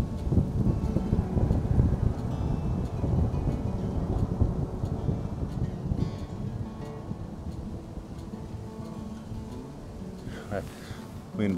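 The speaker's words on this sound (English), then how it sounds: "Try this with the wind blowing a little bit more." Wind gusting along the Lake Superior shore in a provincial park, a steady low rumbling roar buffeting the microphone throughout, with faint water movement beneath.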